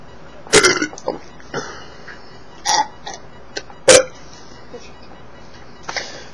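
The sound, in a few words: burping after drinking Frosty Root Beer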